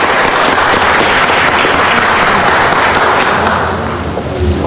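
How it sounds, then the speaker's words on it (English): Loud, dense applause fills a city council meeting room as students are honored with certificates, a close, sustained roar of many clapping hands that eases slightly near the end. "why don't we give these fine students of tomorrow a round of applause"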